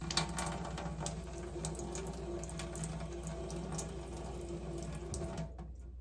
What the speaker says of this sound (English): I just run it under the water a little bit